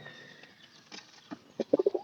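A pigeon, stirred up by extreme heat, gives a few soft coos and then a quick cluster of louder wing flaps and bursts near the end, all close and short with no talking.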